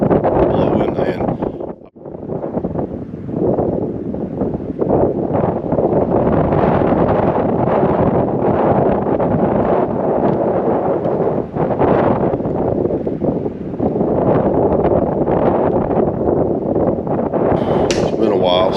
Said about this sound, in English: the wind's been absolutely awful, blowing